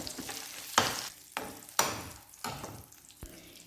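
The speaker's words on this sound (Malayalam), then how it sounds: "ഇഞ്ചി ഇട്ടതിന് ശേഷം കുറച്ച് നേരം വഴറ്റുക" Ginger sautéing in a pan for squid curry, about five sharp stirring bursts of sizzle separated by quieter frying, near and fairly soft, with no speech.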